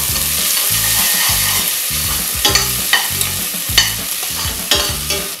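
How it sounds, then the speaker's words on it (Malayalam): Chopped onion sizzles and fries in a pan for sayadieh fish rice, with a steady rhythmic scraping of stirring and clinks from the utensil, close and loud, with no talk. "നമുക്ക് ചോപ്പ് ചെയ്ത് വെച്ചിട്ടുള്ള ഒനിയൻ ഇടാം"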